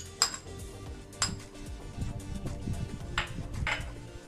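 Yogurt is stirred in a bowl with coriander leaves, curry leaves, cumin and spices, making soft wet swishing broken by a few sharp spoon clinks against the rim, close and fairly quiet with no voice.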